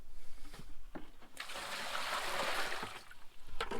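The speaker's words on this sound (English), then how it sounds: "And now, the rinse cycle." Washing machine rinse cycle with water rushing and sloshing for a couple of seconds, quiet and close, framed by small knocks and clicks.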